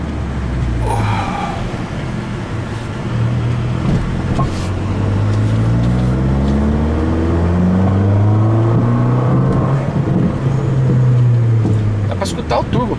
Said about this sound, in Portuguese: O turbo, cara, subindo bacana.